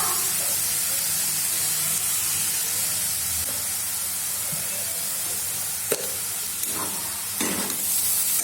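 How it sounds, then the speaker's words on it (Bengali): Fish frying in a pan with powdered turmeric, coriander, cumin, chili and salt, a steady low sizzle and hiss with occasional stirring scrapes and clinks toward the end. "এখন ভালো করে মিক্স করুন আর গ্যাসের আঁচটা কমিয়ে দিয়ে ভাজুন"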